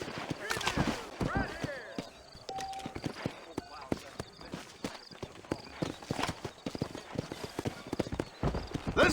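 A horse in Red Dead Redemption galloping, rapid rhythmic hoofbeats pounding close and continuous, with creaking tack and a brief whinny; speech is present in the clip.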